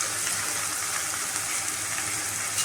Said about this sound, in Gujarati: એને આપણે 2 મિનિટ માટે સાતળવાની છે